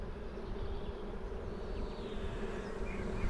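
Honeybees being shaken into a new hive during a shook swarm give a steady, close, continuous buzzing drone that holds evenly throughout, with no voices.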